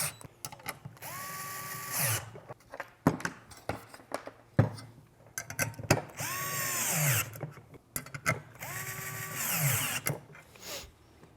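A power driver running pan head screws into a head unit mounting bracket on a Jeep Wrangler JL, three whirring bursts that rise and fall in pitch, with clicks and handling clatter in between.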